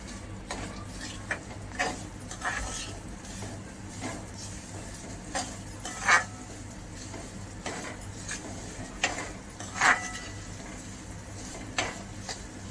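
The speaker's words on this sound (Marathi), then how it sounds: "त्याच्यात रवा टाकून थोडा लालसर भाजून घ्यायचा." Semolina (rava) roasting in a pan over low heat while being stirred, with steady repeated scraping strokes, a faint dry sizzle and occasional louder clicks of the spoon.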